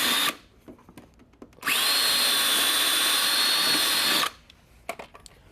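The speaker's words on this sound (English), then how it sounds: "We're going to pre-drill it." A power drill bores a pilot hole into a wooden deck board through a Kreg hidden fastener deck jig. It makes one close, loud, steady whine of about three seconds, with brief clicks and handling noises before and after.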